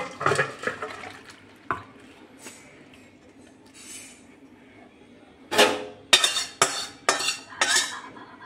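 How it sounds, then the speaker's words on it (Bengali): Potatoes are added to chicken curry in a cooking pot, with scattered clinks and knocks of a utensil against the pot, a soft lull, then a run of louder clattering strikes close by. "এর মধ্যে আমি এবার আলু দিচ্ছি।"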